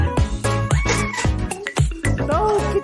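A cat meows repeatedly and close up, with rising and falling tones running almost continuously for about three seconds.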